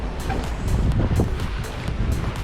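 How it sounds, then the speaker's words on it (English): Big ocean waves strike a cruising boat at sea, a close, steady wash of rushing water and wind noise with rhythmic surges over a couple of seconds. "Can never really get on video quite how big some of these waves are"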